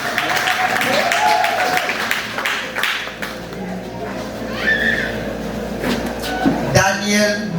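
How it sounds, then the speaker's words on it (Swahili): Audience applause at a graduation ceremony in Kitale, Kenya, with clapping running throughout beneath a voice announcing names, plus a few brief tonal sounds. "Pigia makofi."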